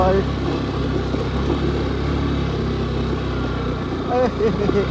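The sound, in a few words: motorcycle riding on a forest road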